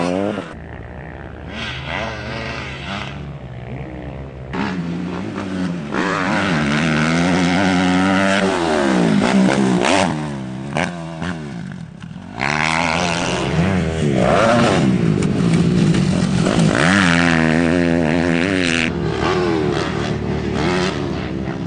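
Motocross bikes ridden on a dirt track, engines loudly revving and falling through gear shifts as they pass close, with brief dips between passes.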